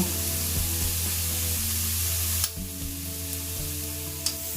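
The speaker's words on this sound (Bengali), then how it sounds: "অনেকক্ষণ ধরে নাড়াচাড়া করে মশলাটা ভাজা হয়েছে" Ground spices such as cumin and coriander powder frying in a pan for doi katla, a steady close sizzle broken by a few sharp scrapes and clicks of a stirring spoon, with no voices.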